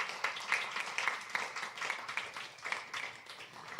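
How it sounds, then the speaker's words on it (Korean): Audience applause at a Christmas worship concert, a dense steady wash of many hands clapping in a hall, fairly close and sustained throughout without a break. "네, 다시 한번 박수 부탁드릴게요."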